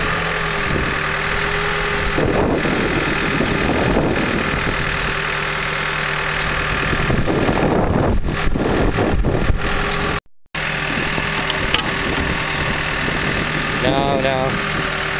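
A heavy machine's engine idles and revs during a septic tank installation, a loud, steady diesel rumble with brief surges and a short dropout. People talk over it at times.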